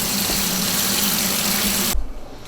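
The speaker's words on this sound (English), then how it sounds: "you're just going to fill it up with water at least an inch high" Tap water pours steadily into a pot of soaking black beans, a continuous loud rushing stream that cuts off near the end, leaving a brief fading trickle.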